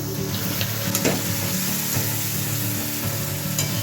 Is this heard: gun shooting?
no